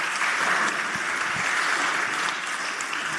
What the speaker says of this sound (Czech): prosím pro potlesk pro řečníky